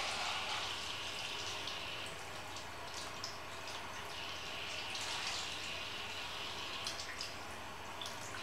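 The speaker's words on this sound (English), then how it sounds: "I can't be the only one who loves to play with the water." Hands splash and swirl through water in a soft, close, quiet ASMR setting, with faint continuous trickling and small drips scattered throughout, no talking.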